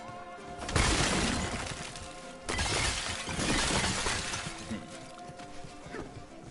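Objects smash and shatter in Dragon Age: The Veilguard, two loud crashing bursts of breaking debris with scattered fragments trailing off, close and without talk.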